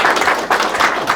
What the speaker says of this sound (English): So yeah, round of applause.